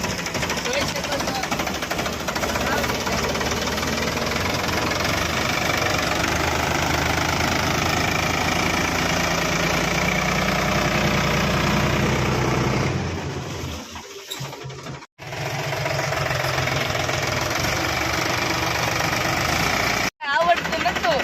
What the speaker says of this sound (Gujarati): તો મિત્રો આપણું ટ્રેક્ટર શરૂ થઈ ગયું છે.